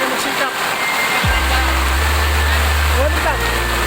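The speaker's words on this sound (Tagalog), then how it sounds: "Ulan lang." Steady heavy rain hisses broadband and loud in the Philippines, while a vehicle's engine starts partway through and idles low beneath the downpour.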